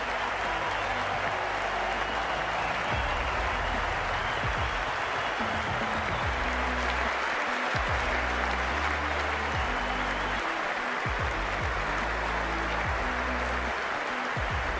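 A large crowd cheers in a packed cricket stadium before a T20 match, a steady, loud roar of voices and applause that fills the whole stretch without pause.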